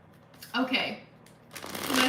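Tarot cards are riffled and shuffled in two quick close bursts, crisp papery flutters separated by a brief pause, with a soft voice nearby.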